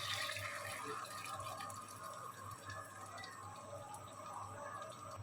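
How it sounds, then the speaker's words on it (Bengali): Half a cup of liquid milk pours into a pan of egg korma with green chilies, a steady liquid trickle and splash running close and fairly faint under a constant low hum, with no voices. "এখন দিয়ে দেবো এখানে চাল করে রাখা লিকুইড দুধ, আধা কাপ দুধ দিয়ে দেবো।"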